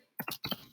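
A few quick clicks of typing on a computer keyboard, two pairs of close, crisp keystrokes with a brief pause between them.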